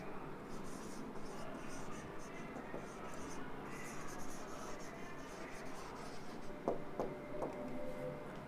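Pen or pencil writing on paper while scores are noted down, a soft continuous scratching with a few sharper strokes near the end, faint under room tone.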